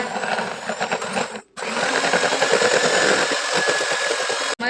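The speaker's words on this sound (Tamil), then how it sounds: "இதில் 2 கப் விப்பிங் க்ரீம் சேர்த்துக்கோங்க. சேர்த்து கொடுத்துட்டு நல்லா பீட் பண்ணிக்கோங்க." An electric beater whips chilled whipping cream in a bowl, giving a loud, close, steady motor whir that breaks off briefly and then starts again, with no talking.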